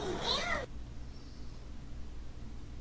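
A cat lets out one brief, clear meow up close, then the sound drops to quiet room noise.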